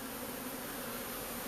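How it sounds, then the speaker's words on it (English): Dense, steady drone of swarming honeybees clustered around the outside of a hive box, a continuous close buzzing with no voices and no breaks. "there's still a lot of bees on the outside of this box"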